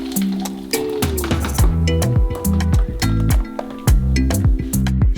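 Melon mint milkshake being poured from a blender into a glass, a thick squishing pour with clinking glass contact in repeated bursts, close and fairly loud with no talk.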